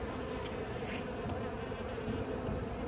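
Honeybee swarm hived in a box outside a home, buzzing steadily and close throughout, a dense continuous drone with no voices.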